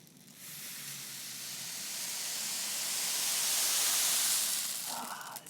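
A homemade rain stick tipped end over end lets a long, steady cascading hiss of tumbling fill swell gradually and fade after about five seconds, heard alone and close.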